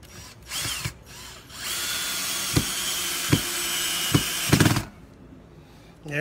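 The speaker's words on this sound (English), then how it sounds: "we pick a drill that's just slightly smaller than the screw we're going to put in diameter" Power drill boring a pilot hole into a door to take a screw, a steady close whine running several seconds with a few short bursts of load and a brief spin-down before quiet.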